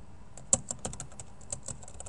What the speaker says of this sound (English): If you want to chat with this man, Danny, you would type your chat right in here